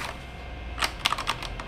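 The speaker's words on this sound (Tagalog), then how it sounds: "At ito na yung keyboard." Keys clatter on a Machenike K500 84-key mechanical keyboard: a quick, close burst of sharp clicks that starts sparse and then speeds into a rapid run over quiet room tone.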